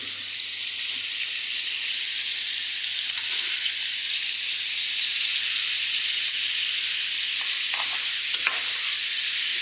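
Squash and string beans sizzle and hiss steadily in a hot pan, a loud, continuous frying sound with occasional stirring scrapes, no voices.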